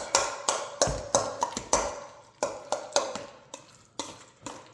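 A spoon stirring a thick homemade tzatziki mixture in a bowl, a close series of about a dozen soft wet taps and scrapes in a loose, uneven rhythm, with no talk.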